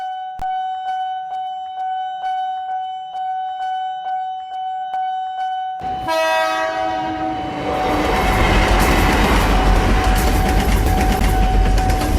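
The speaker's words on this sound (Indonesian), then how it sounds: "jadi mohon tunggu kereta selesai lewat supaya perjalanan pulangmu selamat." A bell clangs in a steady rhythm at a railway crossing, then a train horn blares loudly and the train rumbles past close by with a heavy, continuous roar.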